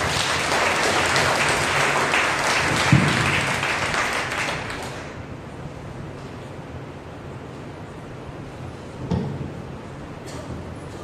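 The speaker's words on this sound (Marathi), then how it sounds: "प्रभूला जोरदार टाळ्या वाजवा." A church congregation claps for the Lord, a dense burst of applause that fills the first few seconds and then fades to a quieter murmur of scattered claps and room noise, with a brief knock near the end.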